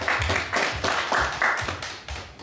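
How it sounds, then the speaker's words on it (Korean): A church congregation claps together in a steady, roughly regular rhythm of distinct hand claps, moderately loud and fairly close. "우리 하나님께 영광을 박수 한번 드리도록 하겠습니다"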